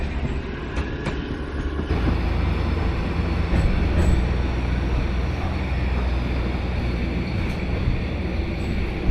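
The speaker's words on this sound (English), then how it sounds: "After passing another train in the opposite direction, we continue our journey to Huvosvolgy." A train on Budapest's Children's Railway passes another train heading the opposite way, a continuous low rumble and rolling rattle that swells briefly and then holds steady, heard from on board.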